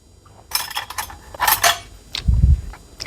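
A metal spoon is picked up for scooping sour cream, giving off a few bright clinks and rattles against dishes in a quiet kitchen, closing with a duller thump.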